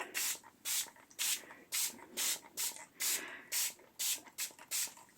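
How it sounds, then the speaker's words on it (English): Short bursts of a hand spray bottle misting water onto a faux leather journal cover, about ten quick close hissing squirts in a fairly regular rhythm with brief quiet gaps between them. "Now, I'm going to spray it with water just a little bit."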